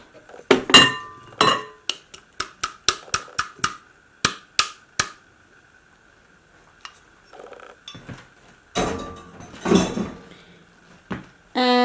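Sharp clinks and taps ring out against a Pyrex glass bowl as graham cracker crumbs are moved into it, a rapid series of bright knocks followed by scraping and clattering handling sounds.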